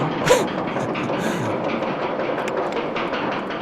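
Floorless roller coaster train in RollerCoaster Tycoon 2 slowly climbing the lift hill, a steady rattling clatter of track and chain that runs continuously at moderate level throughout.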